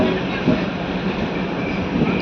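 DEMU train pulling out of Pendekallu junction on the Kurnool–Guntakal line, a steady close rumble of the moving carriage with a couple of soft thumps, continuous throughout.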